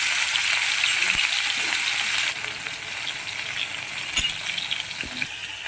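A ginger, green chili and garlic paste fries in hot oil, a steady loud sizzle with occasional clinks of a spoon stirring the pan.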